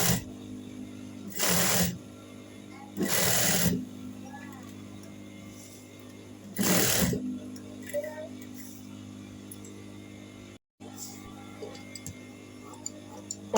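A sewing machine stitches the side of a blouse collar band in three short bursts of rapid whirring, separated by quiet pauses with faint clicks and handling noises.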